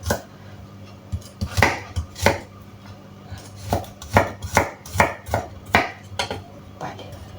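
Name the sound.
knife chopping beans on a board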